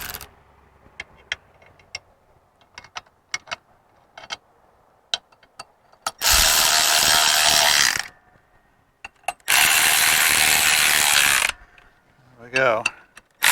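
Ratchet tightening flywheel bolts in a star pattern on a 1955 Triumph TR2 under restoration: scattered ticks and clicks, then two long, loud bursts of continuous rapid ratcheting and a short final one, close by.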